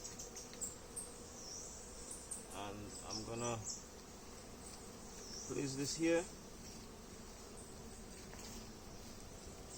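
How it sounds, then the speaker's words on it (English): A steady low buzzing of many honeybees around an open hive fills the background throughout, while a person speaks briefly in bursts over the constant drone. "Right, lots of bees"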